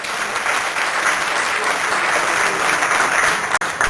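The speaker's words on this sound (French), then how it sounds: "On applaudit très fort." A crowd at a political meeting applauds loudly and continuously, a dense, even roar of clapping throughout.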